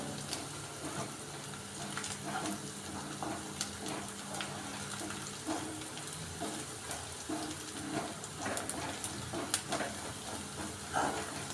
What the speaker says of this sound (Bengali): বেসনটা দিয়ে নাড়তে থাকবেন নয়তো এটা কড়াইতে লেগে যাবার সম্ভাবনা থাকে